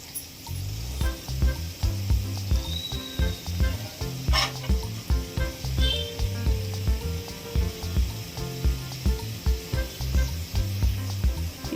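Carrot pieces frying in a pan for fried rice, a continuous loud sizzle overlaid by rhythmic, repeated scraping and tapping of a utensil stirring them, close and without talk.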